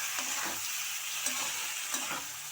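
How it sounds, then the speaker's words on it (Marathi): Cluster beans stir-fried in a pan, giving a steady close sizzle with a few soft scraping stirs, no voices. "त्याच्यात शेंगा टाकूया आणि चांगले परतून घेऊया"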